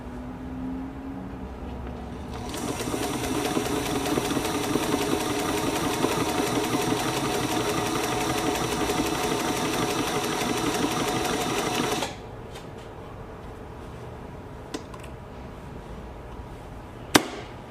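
Singer 221K sewing machine stitching steadily for about ten seconds, a loud, even, rapid mechanical whir and needle clatter, then stopping abruptly, followed by quieter handling clicks and a sharp tap near the end.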